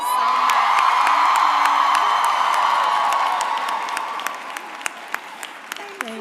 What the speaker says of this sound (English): Another round of applause for Dr. Henson